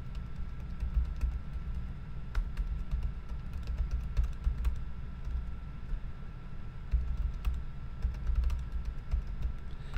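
A computer keyboard typing out an announcement to students, a steady run of close, light key clicks with scattered sharper taps, no talking.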